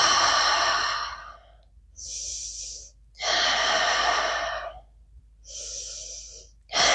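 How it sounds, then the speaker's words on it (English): Slow, deep breaths during a yoga flow, long airy inhales and exhales alternating in a steady rhythm, close and clear with quiet pauses between. "Breathing deeply."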